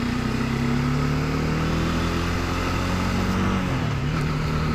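Dense road traffic of motorcycles and cars crawling along a congested service lane, engines droning loud and close in a steady wash, with a rising rev near the end and no talk.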